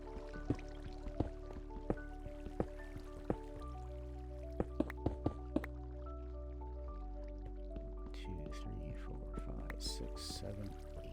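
Water in the Minecraft Create mod game gives quiet, scattered drips and small liquid plinks over a steady low hum.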